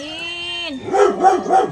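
A dog gives three quick, loud, close barks in a row, following a brief voiced tone at the start.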